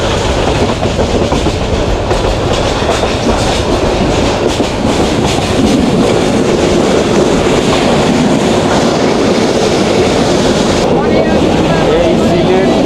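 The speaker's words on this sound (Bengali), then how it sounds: "এই সিলেট ট্রেন লাইনে যে এত শব্দ করে তা কল্পনাও করা যায় না" The Paharika Express runs the Sylhet line with loud, continuous rumbling and clattering wheels, a dense roar that holds from start to finish without letting up.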